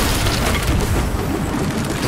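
Ship cannon fire in the pirate video game Sea of Thieves, a loud, dense, continuous booming rumble with no clear gaps between blasts, close and filling the whole stretch.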